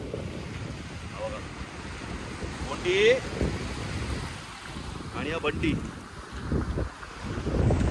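Sea waves at an untouched beach on the Konkan coast, a broad wash of surf and wind rumbling steadily under people talking nearby, with gusts buffeting the microphone.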